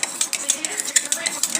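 Melted soap base being stirred with aloe vera and rice flour, giving a run of light, quick scraping and clinking strokes against the container, fairly close and steady with no voices.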